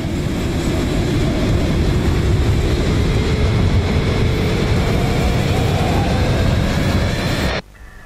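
A speeding train in the video game Poppy Playtime Chapter 4 roars with a loud, steady rumble and rattle for several seconds, then cuts off abruptly into quieter ambience.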